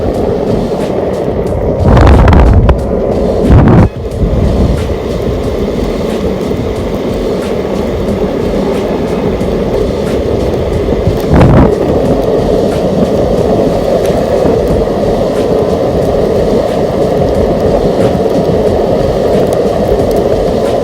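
A cheap DIY electric skateboard rides at full throttle, giving a loud, steady rumble of wheels on pavement with rushing wind, a few sharper bumps early on and no voices.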